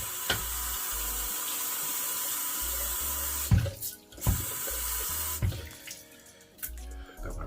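Water runs from a bathroom tap to wet hairbrush bristles, a steady close stream broken by brief pauses and knocking clatters as the brush moves under it.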